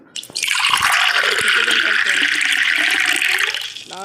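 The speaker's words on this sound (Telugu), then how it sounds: "వాటర్" Water pours steadily in the video game Drug Simulator 3D, a loud, close, continuous gushing splash lasting a few seconds, with a low game tone and faint voice underneath.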